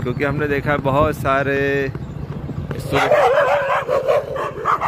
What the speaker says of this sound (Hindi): देख लिए कुत्ते भी भौंक रहे हैं सड़क के ऊपर